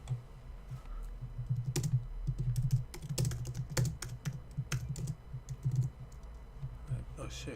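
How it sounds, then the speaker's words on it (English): Rapid typing on a computer keyboard, a dense irregular run of clicks and key taps close to the microphone, continuing for several seconds with brief pauses. "where am I typing?"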